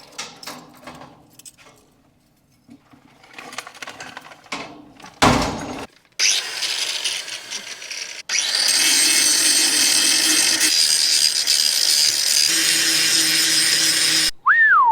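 A power tool sharpening a blade in a farm workshop: a short burst of grinding, then a loud, sustained high-pitched whine of the grinder on steel that runs steadily for several seconds, close and alone.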